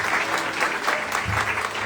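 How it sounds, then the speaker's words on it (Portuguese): Congregation applauding at a church thanksgiving service, steady dense clapping throughout, loud and close, with no speech over it. "Salva de palmas para Jesus."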